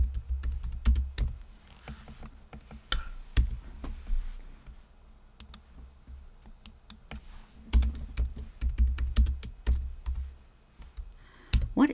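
Rapid typing on a computer keyboard, bursts of close, crisp key clicks with short pauses between runs, no voices.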